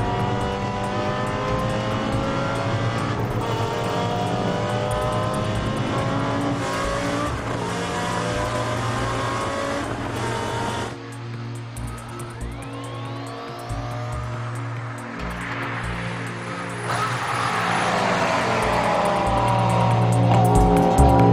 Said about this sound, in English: Particularly nice, the incredible sound of the 10-cylinder engine.